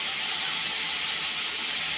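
Turmeric and salt with spices frying in a pan give off a steady, even sizzle that stays constant and fairly loud with no pauses.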